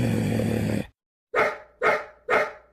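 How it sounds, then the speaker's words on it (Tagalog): A dog barks loudly and close: three sharp barks at a steady rhythm, after a brief silence that follows a dense noisy stretch. "Tahol ka ng tahol ha."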